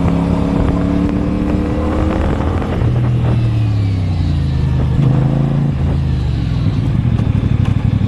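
A CFmoto CLC450 motorcycle brakes hard with ABS engaged, its engine dropping from a steady drone into a lower rumble as it slows. Mechanical clatter and road noise continue throughout, loud and close.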